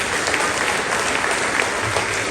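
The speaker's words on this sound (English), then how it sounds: "a big round of applause for supporting their arts" A school concert audience claps for the band boosters, a dense, even wash of applause from a crowd that holds steady throughout.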